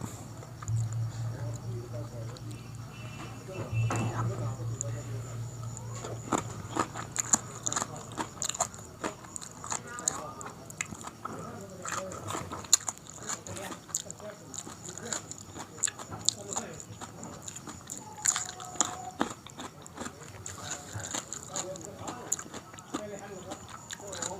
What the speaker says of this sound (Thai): หนาวๆกินปลาดิบ